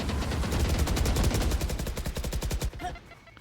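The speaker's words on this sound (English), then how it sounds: "First few shots fired, but they're not going to make it happen" Rapid automatic gunfire rattles in a tactical shooter match, a fast, evenly spaced string of loud shots lasting nearly three seconds before cutting off and fading to quiet.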